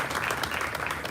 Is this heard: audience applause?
yes